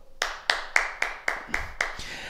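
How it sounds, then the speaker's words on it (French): A small group in a martial arts fitness class claps for themselves, seven sharp, evenly spaced claps in unison, close and distinct, with faint voices in the background. "Et on s'applaudit, bravo."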